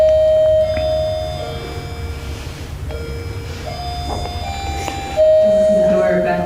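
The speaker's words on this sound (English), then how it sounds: "Doorbell. Is that the doorbell?" A household doorbell chimes with clear electronic tones, one ring early, a couple of shorter tones midway and another ring near the end, heard indoors under a room hum.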